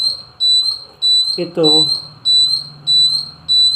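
A long-range infrared security alarm beeps in a steady repeating pattern of loud high-pitched tones, with a person briefly speaking nearby over it.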